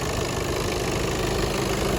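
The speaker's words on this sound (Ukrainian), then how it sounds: "Двигун працює добре" A 2014 Skoda Octavia A7 with a DSG gearbox idles close to the microphone, giving a steady, even engine hum with no revving and no voices.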